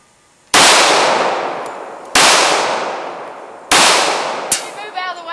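Three loud gunshots from a .45 handgun at morning shooting practice, each one sharp and echoing and a bit under two seconds apart, followed by light clinks and a few small thumps.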